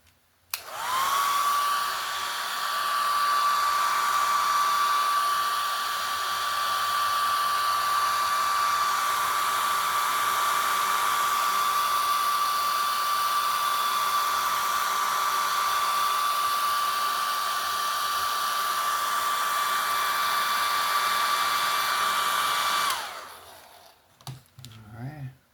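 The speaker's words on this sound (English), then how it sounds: "I'm going to go ahead and dry it off a little bit" A hair dryer blows on hair, a loud steady whine with a constant tone that starts abruptly and runs about twenty seconds, then cuts off with a few brief handling sounds.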